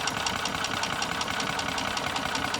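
An old golf cart engine turning over with a steady, even mechanical chatter and faint rhythmic knocking, close and fairly loud, with no clear catch or rise to a running idle.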